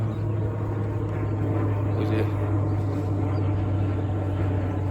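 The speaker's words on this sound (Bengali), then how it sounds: "বিমানের শব্দ" A steady low engine drone from an airplane fills the background, with a brief spoken remark over it.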